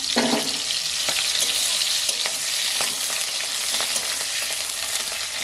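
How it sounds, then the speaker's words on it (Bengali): Large pieces of onion fry in hot oil with a dense, continuous sizzle, close and loud, broken by a few soft clicks and stirs, with no voices. "বড় বড় পেঁয়াজগুলো আমি তেলের মধ্যে তুলে দিই"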